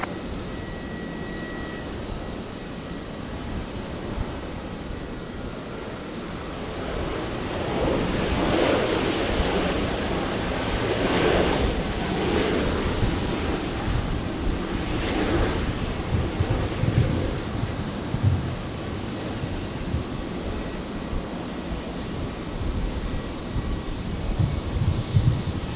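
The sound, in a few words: Jetstar Airbus A320 landing on runway 19 left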